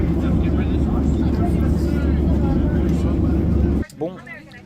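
Steady low engine roar fills an airplane cabin for most of the clip, then drops away abruptly near the end, leaving quieter room sound.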